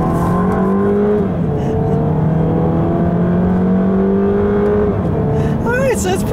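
A 2015 Dodge Dart SXT with a 2.4-liter engine accelerating, its rising engine tone climbing through gears loud and steady from inside the cabin, with someone speaking briefly near the end.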